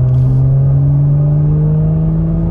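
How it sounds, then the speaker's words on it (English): Modified Kia Stinger GT accelerating at full throttle, its engine giving a loud, close, steady roar whose pitch climbs gradually as the car pulls hard. "I just floored this car"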